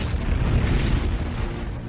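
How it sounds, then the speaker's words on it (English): Asteroid or comet exploding as an atmospheric airburst, a loud sustained deep rumbling boom that fills the full two seconds, with no talk. "that pressure causes the asteroid or comet to explode"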